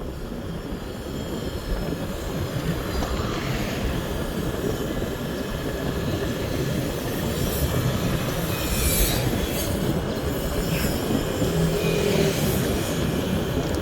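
A train rolls past on a railway in Laos, its wheels clattering and squealing continuously. The sound is loud and sustained, swelling slightly toward the end, with no talking.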